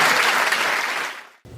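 A caucus applauds Mark Carney at the end of his speech: a brief, loud burst of clapping that thins out, then cuts off abruptly.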